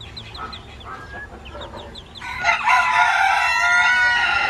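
Hens and a rooster on a farm cluck in short repeated calls, then a rooster bursts into a loud, drawn-out crow that dominates the rest, all close by.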